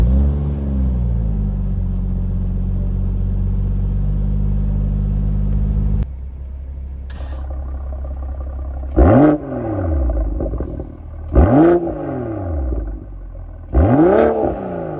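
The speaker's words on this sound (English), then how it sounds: "You guys hear the exhaust?" BMW X3 M40i with an aftermarket catback exhaust starting up, settling into a steady low idle, then three sharp throttle blips that flare loud and fall away, close up with no talk.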